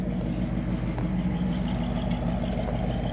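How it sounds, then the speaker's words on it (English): A 1964 Chevy Impala SS V8 runs close by with a steady, fairly quiet engine drone that swells slightly as the throttle is pressed, with no voices over it. "Hit the accelerator."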